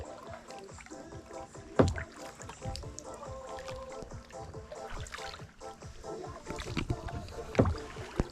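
Kayak paddling on the Wieprz river, with rhythmic splashes and drips from paddle strokes, and a couple of stronger knocks, under a steady background of moving water and outdoor noise.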